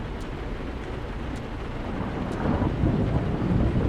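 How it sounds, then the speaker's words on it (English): Steady heavy rain with low rolling thunder that swells louder toward the end, no voices, in the video game American Truck Simulator. "We got ourselves some thunder also."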